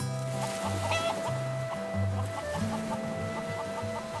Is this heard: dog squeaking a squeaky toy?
no